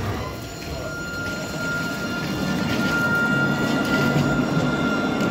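A tram running on rails at a Nottingham stop, a steady rolling rumble that builds slightly and holds loud throughout, with a faint high whine over the wheel noise.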